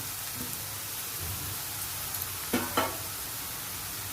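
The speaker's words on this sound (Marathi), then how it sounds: "कांदा घालून घेऊया कांदा छानपैकी परतून घेऊया" Onion sautéing in a pan makes a low, even crackling sizzle that continues throughout, with two brief scraping stirs near the end and no speech.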